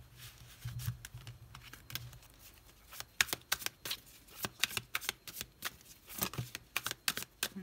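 Tarot cards being shuffled, handled and laid out on a surface: a quiet series of crisp flicks, slaps and rustles in irregular bursts, close by with little else around.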